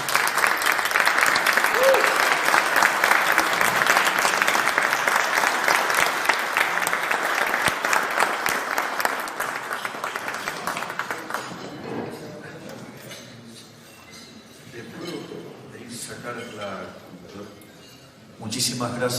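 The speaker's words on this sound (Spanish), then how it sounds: "Por favor reciban a Javier Milei con un fuerte aplauso" An audience gives a loud, dense round of applause to welcome Javier Milei at a talk in La Paz, Bolivia. The clapping holds strong for about ten seconds, then thins into scattered, quieter claps.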